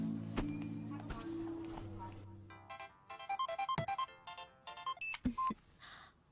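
Mobile phone ringtone ringing in a Tamil thriller film, a bright repeated electronic melody in short bursts after a few seconds of low tonal music, fairly close and clear.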